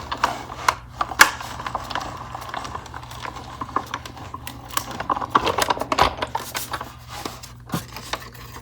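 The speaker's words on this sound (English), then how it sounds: "And then we're just going to go ahead and crank it through." A die cutting machine is cranked by hand to run a sheet of journal pages through, giving a steady stream of soft mechanical clicks and ratcheting taps close by, with no talk.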